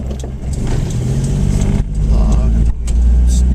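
The engine of a Geo Metro LSI with an automatic transmission runs with a loud, steady low rumble that swells slightly as it revs, while someone talks over it.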